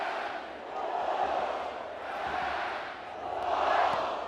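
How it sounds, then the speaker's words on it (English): A large stadium crowd at the NCAA men's soccer College Cup final sings a sustained, swelling chant for NC State, the massed voices rising and falling in waves from a distance. "Wolfpack serenaded by the crowd."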